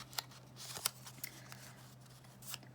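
Scissors snip through a paper triangle for a floral card, giving a few quick, quiet, close cuts with pauses between them.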